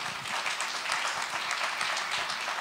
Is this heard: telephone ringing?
no